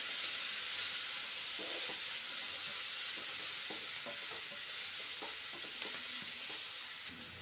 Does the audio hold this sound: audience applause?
no